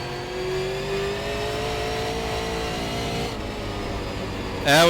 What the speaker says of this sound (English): That right there was just buzzing the tires the whole way down the straightaway.